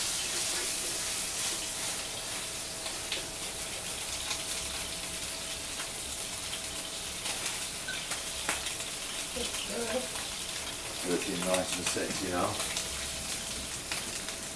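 Meat sears in a very hot pan with a steady, close, crackling sizzle that runs throughout, while someone speaks briefly over it near the end.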